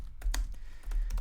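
A computer keyboard clicks in a short burst of typing, a handful of quick, close, crisp keystrokes in a quiet room.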